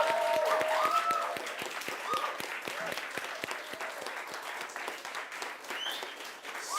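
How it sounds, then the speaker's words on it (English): Applause for the finalists at a FameLab Switzerland science communication competition, steady clapping from an audience heard at moderate distance, with a few voices mixed in at the start. "can you join me in a huge round of applause for all of our finalists?"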